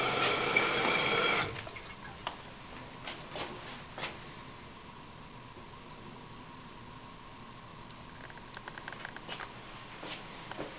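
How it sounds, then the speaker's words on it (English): Water in a tank toilet pours down the overflow tube into the bowl: a louder rush at first, then a steady soft trickle and patter with occasional small drips, heard close up. "A lot of the water right now that's going down this overflow tube is going into the bowl"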